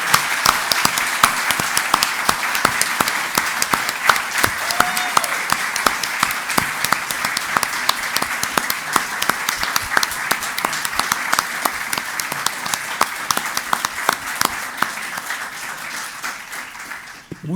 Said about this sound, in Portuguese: Uma calorosa salva de palmas para os 4.